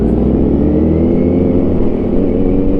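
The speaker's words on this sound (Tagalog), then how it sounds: "Noise pole displacement pa naman yung gamit ni Russell, Aerox" A Yamaha Aerox scooter fitted with a noise pole exhaust drones steadily and loudly up close, a continuous low engine rumble that holds even throughout, with no voices over it.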